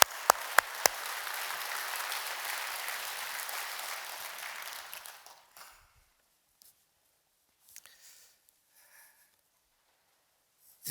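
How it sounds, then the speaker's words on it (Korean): Loud, sustained applause from a church congregation during a worship service, broad clapping for about five seconds before fading into near silence with a few faint scattered sounds. "여러분 좀 크게 박수로 좀 감사를 표할까요?"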